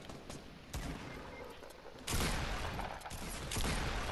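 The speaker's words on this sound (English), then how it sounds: "No, shouldn't have used the shotgun." Shotgun blasts in the shooter game Fortnite, several sharp bursts of gunfire fired in quick succession, getting louder and denser partway through, with no speech.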